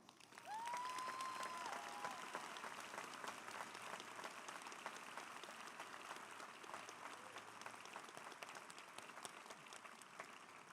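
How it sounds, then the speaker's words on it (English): Applause from a large audience at a Mountlake Terrace High School class of 2022 graduation ceremony, a steady wash of many hands clapping heard from a distance and held for about ten seconds at a fairly low, even level. "can I get a huge round of applause for Mason Trimble?"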